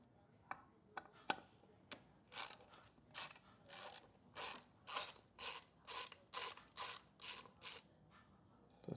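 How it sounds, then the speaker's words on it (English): A screwdriver removes screws from the clutch cover of a 2009 Suzuki GSX-R600 motorcycle, producing a few quiet clicks followed by a regular series of about a dozen soft ratcheting turns, close and faint. "let's get a screwdriver and take that out"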